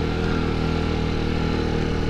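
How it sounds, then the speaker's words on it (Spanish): A small motorcycle labors steadily in first gear while climbing a rough gravel ravine in the Chaco of Tarija, its engine a loud, close, continuous drone with no pauses. "esto se sube en primera, chicos, En esta moto"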